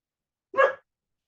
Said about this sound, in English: I have a 9-week-old black lab puppy.